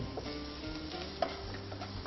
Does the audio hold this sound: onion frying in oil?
yes